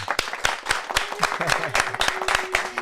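A small live podcast audience at Paco's Place applauds, loud close rapid claps from a few people, with voices murmuring beneath them.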